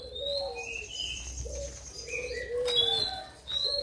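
Zebra doves (perkutut) calling from cages in a breeding area, with several soft, wavering coos and chirps overlapping at moderate distance, steady and continuous with no talking.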